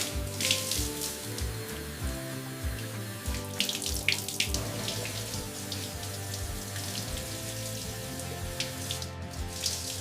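Carrots are rinsed under running water in a carrot halwa factory, making a steady splashing gush of water over produce with a low rhythmic thumping underneath. The sound is close and continuous, with no voices.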